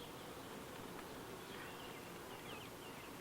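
Honeybees buzzing inside a crowded hive packed full over all the frames, a continuous soft drone of many wings with faint rising and falling whines from individual bees, steady and close without any talk.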